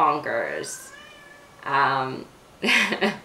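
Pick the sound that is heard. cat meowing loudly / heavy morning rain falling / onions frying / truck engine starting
cat meowing loudly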